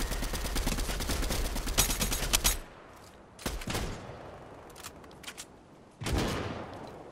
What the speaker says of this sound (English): They shot the bot.